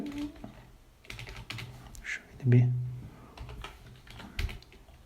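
Fingers tap on a computer keyboard in uneven bursts of keystrokes while entering code, heard close up under someone talking over the typing.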